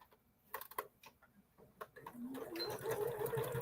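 A sewing machine stitching quilt pieces together, first a few soft ticking stitches, then a steadier, louder run of rapid stitching near the end, close by and with no voices.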